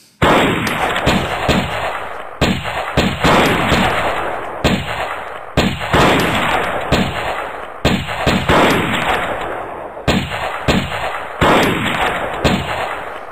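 Repeated loud sharp rifle shots from the sniper game Snipers Assassins, about a dozen close blasts at roughly even intervals, each ringing out with a decaying echo before the next, no talking.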